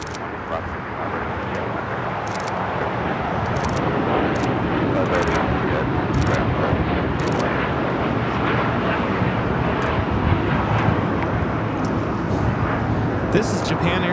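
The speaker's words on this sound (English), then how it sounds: "This is Japan Airlines Flight 61 taking off to Tokyo Narita on the 787-9 Dreamliner." Japan Airlines Boeing 787-9 Dreamliner, flight 61, taking off from Los Angeles for Tokyo Narita, its loud engine roar building after the first few seconds and then holding powerful and steady, with faint brief clicks on top.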